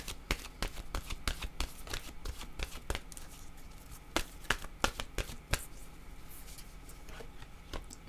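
Tarot cards are shuffled and handled, with a close, quiet series of irregular crisp riffles and snaps, some clustered and some spaced apart.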